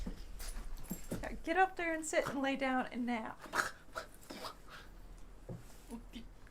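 A small, sad little dog whimpers and whines close by in short high-pitched cries, mixed with someone talking softly to it.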